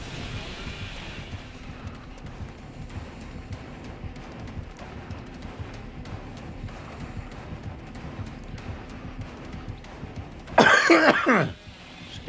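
A person coughs once, a short loud burst close to the microphone near the end, following a long stretch of low background noise with soft, steady clip-clop-like rhythmic sounds.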